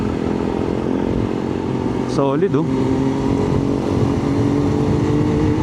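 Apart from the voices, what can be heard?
Kawasaki ZH2 motorcycle riding and accelerating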